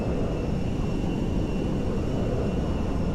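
B-2A Spirit bomber in GTA 5 descending toward a runway: a steady, broad engine roar drones evenly throughout with no break, and no voice over it.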